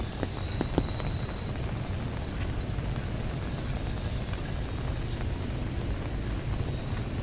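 Steady, persistent rain falls on a church courtyard as a dense, even hiss with scattered drip taps, continuous and close throughout.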